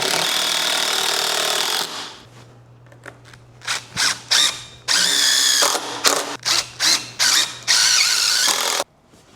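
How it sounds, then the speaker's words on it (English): Ratchet strap being cranked tight while pulling parts of a home-made bed dolly together for a 1967 C10 truck: a loud, close run of sharp ratcheting bursts in quick, uneven succession after an opening stretch of steady mechanical noise. "I used a ratchet strap to pull them together"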